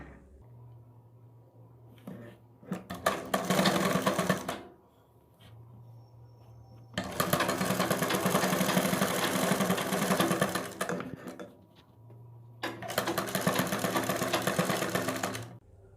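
A sewing machine stitches a neck design onto a kurti in three loud, rattling bursts, with quiet gaps between them where a low steady hum remains.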